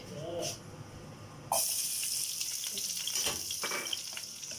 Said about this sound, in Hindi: घी डालते हैं और साथ ही हम प्याज डाल देंगे